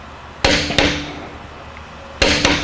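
A torque wrench clicks while tightening an Acura MDX rear axle nut, giving two sharp close clicks, a pause, then two more clicks in quick succession.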